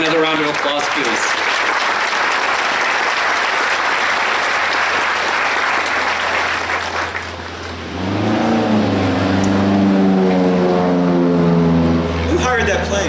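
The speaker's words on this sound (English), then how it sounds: "We have another round of applause, please." Audience applause at a school graduation ceremony, steady dense clapping from a large crowd for several seconds, fading as an engine drone rises, with a speaker's voice following.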